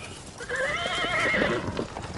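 A horse whinnies in a long, wavering neigh close by, with faint hoof clip-clops underneath, and no voices.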